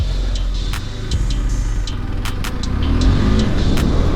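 A KTM 390 Adventure motorcycle ridden off road, its engine revving and pulling hard up top, heard as a loud, continuous close engine drone with rising intensity and scattered clicks and knocks.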